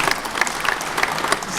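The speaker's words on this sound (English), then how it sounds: "let's go ahead and applaud now" Audience clapping at a talk or presentation, a steady dense patter of many hands, loud and close throughout the short stretch.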